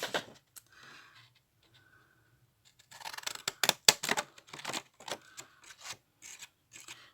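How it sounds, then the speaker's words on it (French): Pinking scissors cut through paper during flipbook decorating: a few soft snips, then a quick cluster of crisp, rasping cuts close by, with short pauses between strokes in an otherwise quiet room. "Je vais prendre les ciseaux vagues."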